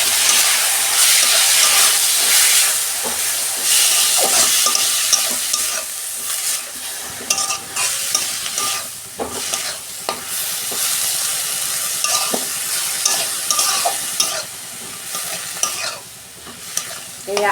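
Potato greens and drumstick leaves stir-frying in a pan with onion, a steady close sizzle and hiss with scraping stirs throughout, no voices.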